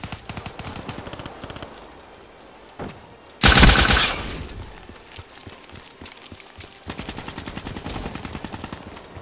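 Rapid automatic gunfire in Call of Duty Black Ops 3 comes in long, steady rattling bursts, with one loud, dense blast of fire in the middle, close and with no talk over it.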